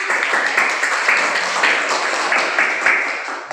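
A group, likely students in a classroom lesson, claps in a rhythmic burst of fairly even, patterned claps, moderately loud and close, lasting a few seconds.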